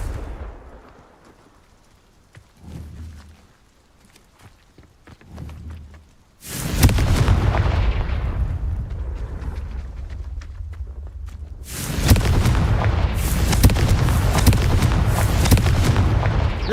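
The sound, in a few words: Confringo blasting spell explosions in video game Hogwarts Legacy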